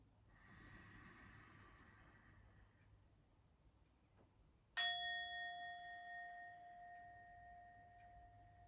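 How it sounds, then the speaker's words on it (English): A singing bowl is struck once after a quiet stretch of soft breathing, ringing out with a bright, clear tone that lingers and slowly fades over several seconds in a calm room. "see if you can breathe out to the sound of the singing bowl"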